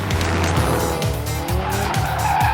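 A sports car drifts with its engine surging and its tires squealing in repeated pulses as it slides, loud and close, with no voices over it.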